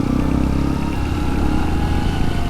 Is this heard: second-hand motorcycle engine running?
yes